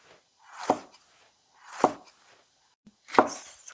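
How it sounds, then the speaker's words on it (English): A knife slices a chili pepper thin on a cutting board, three distinct crisp chops spaced about a second apart, close and clear with near silence between them. "Slice the pepper. Slice it thin like that."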